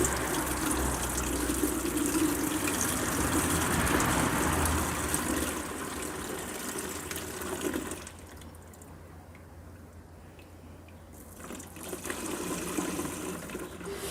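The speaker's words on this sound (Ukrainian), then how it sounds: "Виливаємо у наш оприскувач" Mixed garden treatment solution for an autumn orchard spraying pours into a garden sprayer as a steady splashing liquid rush for several seconds, then drops to a quieter trickle before picking up again.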